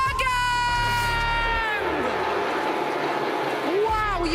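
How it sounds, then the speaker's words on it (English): Large crowd at an EA Sports FC 24 esports playoff tournament cheering and whooping in a loud continuous roar, with an excited announcer's voice over it and rising whistling tones at the start and end. "Wow, you can hear the crowd."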